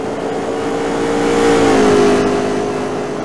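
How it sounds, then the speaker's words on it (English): A race car engine in the NASCAR Racing 4 video game at Las Vegas revs loud and steady, its pitch holding then dipping slightly as the throttle eases, with no talk. "Throttle the engine."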